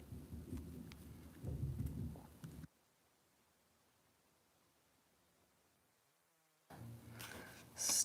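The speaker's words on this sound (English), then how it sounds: "Ooh, I just heard thunder." Thunder from an approaching storm rumbles low and deep for a few seconds, then near silence falls before another heavy rumble with rain-like hiss returns at the end; no one speaks.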